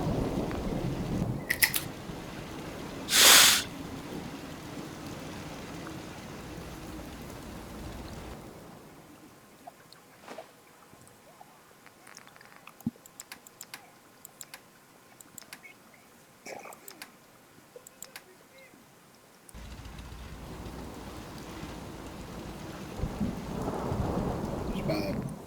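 Steady rain hiss with rumbles of thunder in the video game Fallout 4, fading to a quieter patter with sparse drips before the downpour swells again; a brief sharp noise early on.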